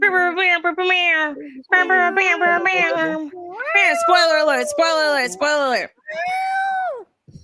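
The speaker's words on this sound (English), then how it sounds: "Now that sounded like a cat." An angry cat's loud, drawn-out meows and yowls rise and fall in a string of wailing cries, with a short spoken remark mixed in.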